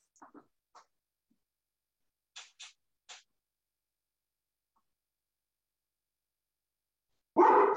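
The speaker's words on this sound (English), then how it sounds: "Sorry, my dog's barking." A big dog barks in the background during an indoor online meeting: a few short, muffled barks in small clusters separated by silence, then a louder burst at the end.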